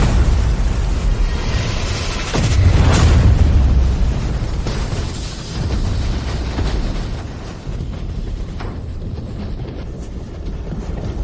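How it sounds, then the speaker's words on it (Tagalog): A powerful explosion goes off overhead in a Filipino drama, and a loud, dense roar of rumbling debris follows. The sound surges and stays thick and forceful for several seconds. "Napakalakas ng pagsabog sa itaas."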